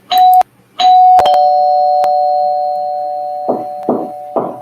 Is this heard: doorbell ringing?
yes